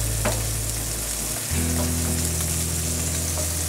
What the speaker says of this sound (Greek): Ενσωματώνουμε φρέσκο κρεμμύδι. Ελαφρύ σοτάρισμα μαζί με το σπανάκι.